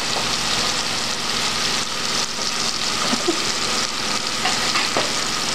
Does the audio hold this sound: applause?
no